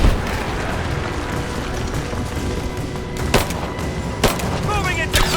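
Gunfire in Rise of the Tomb Raider, a dense, continuous rattle of shots mixed with game ambience, with a few sharper, louder bursts near the end.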